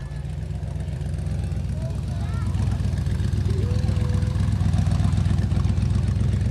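A huge, noisy Tuff Truck competition vehicle roars loudly at a 2005 off-road event, a steady heavy engine rumble that swells slightly over several seconds and fills the whole clip.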